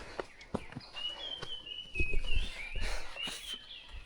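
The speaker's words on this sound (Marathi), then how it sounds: "पक्ष्यांचा आवाज चिल्लीबिलाट तुम्ही ऐकू शकता" Birds chirp in forest on the Ratangad trek during pre-monsoon, a few high thin calls and a trilling line rising over rustling and scattered footstep-like thumps, moderately close and fairly faint.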